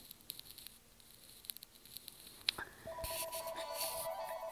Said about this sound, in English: Oh, and that's my phone ringing.